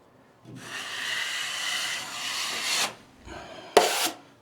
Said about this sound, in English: I'm gonna have to scrape just a little bit to get that out.